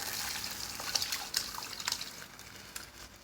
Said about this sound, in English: Sorry for the little splash.